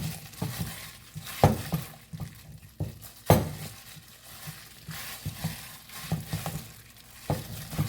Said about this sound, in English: Mix it really well into the butter.